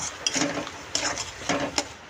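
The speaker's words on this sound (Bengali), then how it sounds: "এটাকে এবার ভালো করে আমি এটাকে মিশিয়ে নেব" A spoon scrapes and stirs in a pan as dry chilli powder and spices are mixed into Bengali doi katla fish curry, giving a few soft, quiet strokes with a faint sizzle underneath.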